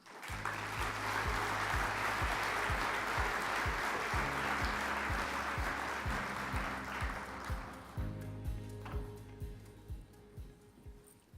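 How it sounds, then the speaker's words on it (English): Sustained audience applause at a geothermal congress opening ceremony, a dense burst of clapping that holds steady for several seconds before thinning into scattered claps, with a faint voice beginning under it. "Please give him a big round of applause."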